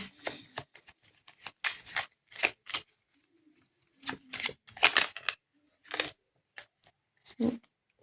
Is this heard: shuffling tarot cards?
yes